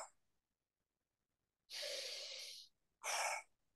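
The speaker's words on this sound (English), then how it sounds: "Now, decompression breathing is this." Two close, breathy nasal inhalations of decompression breathing, the first longer and the second shorter, separated by silence in a quiet room.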